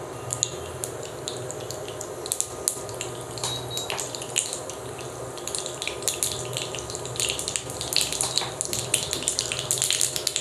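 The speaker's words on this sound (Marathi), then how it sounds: "मोहरी छान अशी तडतडून द्यायची आहे" Mustard seeds crackling in about a spoonful and a half of hot oil in a kadai: dense, sharp popping and spitting clicks scattered continuously over a steady frying hiss, close and fairly loud, with no voices.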